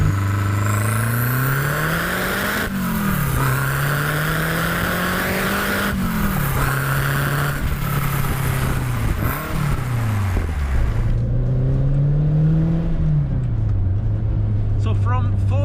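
A turbocharged Renault 5 Turbo 2 engine revs up repeatedly through several gear changes, quiet below 3,500 rpm before the boost comes in, the pitch climbing each time, loud and close, with a steady roar throughout.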